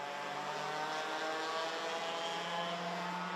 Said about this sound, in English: It's just that noisy exhaust